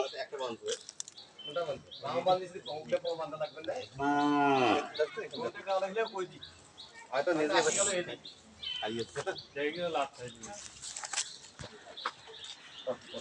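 Several loud, drawn-out moos from a fallen cow close by, with people talking and shouting in between.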